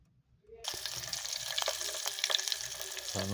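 An egg is frying in a pan on a home stove, a steady crackling sizzle that starts abruptly after a quiet moment and carries on close by, with a small knock near the end.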